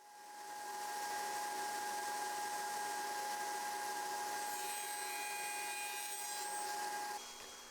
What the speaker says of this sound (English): Then I can tilt my blade to 45 degrees and begin cutting the miters.